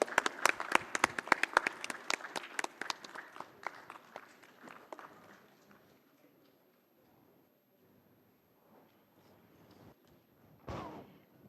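An audience at a formal jubilee ceremony breaks into loud, dense clapping that thins out into scattered claps and fades, followed by a brief louder burst near the end.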